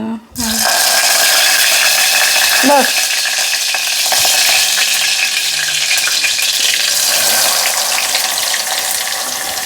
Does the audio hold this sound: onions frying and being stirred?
yes